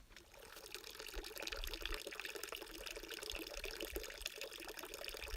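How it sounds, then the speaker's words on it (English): Water runs steadily through a creek in dry Arizona mountains along a hiking trail, a continuous close rushing and splashing that holds even throughout with no voices. "I don't think there can be a more glorious sound in these parched mountains than running water."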